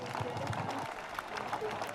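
Wedding guests applaud at a civil marriage ceremony, a brief burst of clapping from the crowd mixed with voices.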